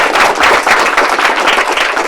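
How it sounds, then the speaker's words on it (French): A studio audience applauds the children of the ASG Club, a steady, loud and dense wash of clapping that carries through without a pause. "On applaudit très très fort pour eux."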